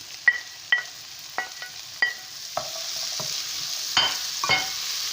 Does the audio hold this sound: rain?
no